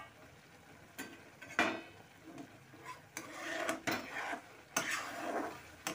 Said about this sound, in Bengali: 5-6 মিনিট হয়ে গেছে, এখন আমি ঢাকাটা তুলে নিই।